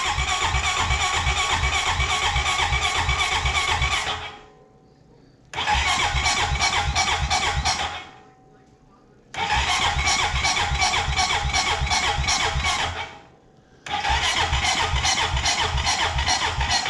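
A Honda engine with Keihin fuel injection cranks without starting, a loud rhythmic starter churn in four long bursts separated by short silent pauses.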